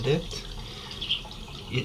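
Clean water trickles and pours gently into a goldfish breeding tank holding eggs, a soft continuous flow with faint splashes, close by and moderately quiet.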